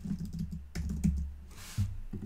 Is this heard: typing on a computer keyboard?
yes